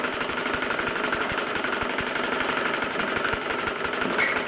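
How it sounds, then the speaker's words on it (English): A Bowman M167 model steam engine chugs steadily with rapid, regular low knocks under a constant hissing rush of exhaust steam, continuous and close throughout. "There's a bit more steam coming out of the exhaust now."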